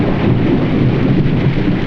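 Thunderstorm and rain effect from a Young Frankenstein trailer: steady, loud, dense rain hiss with a deep rumbling undertone, unbroken and without voices.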